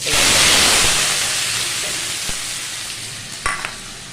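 Bay leaf, two dried red chillies and cumin hit hot oil for fried rice, a loud burst of hissing sizzle that slowly fades, with a couple of clinks from a spoon near the end.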